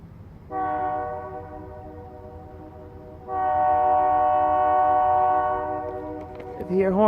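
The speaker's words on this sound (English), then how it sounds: "if you hear a horn like that, please stop." A Kiamichi Railroad freight train horn sounds from a moderate distance in two sustained blasts, a short one followed by a longer one, with a faint rumble underneath.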